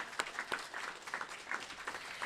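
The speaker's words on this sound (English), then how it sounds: "One more round of applause for them." A small audience claps for event partners at an arts and business council gathering, sparse, uneven hand claps with distinct individual strikes, fairly faint and close.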